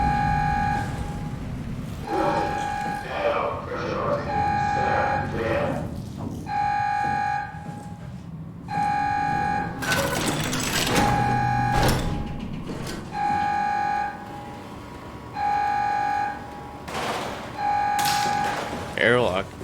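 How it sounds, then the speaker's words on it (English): Repeated electronic alarm beeps sound in a dim underwater facility in the horror game SOMA, pulsing at a steady interval of about two seconds over ambient hum, with a voice talking in between. "that beeping's getting quite annoying"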